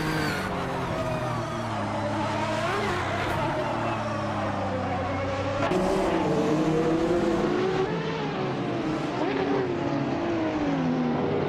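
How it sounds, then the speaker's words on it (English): A 1989 Sauber C9 Group C prototype in a racing video game roars continuously at high revs, the engine pitch rising and dropping through gear changes and corners with no pause. "Laura Biolab is driving a 1989 Sauber C9, a classic Group C car, known for its aerodynamics and speed"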